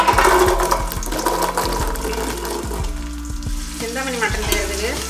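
Small shallots fry in hot groundnut oil for Chinthamani mutton, giving a loud, steady sizzle with repeated stirring knocks and scrapes throughout and no voices.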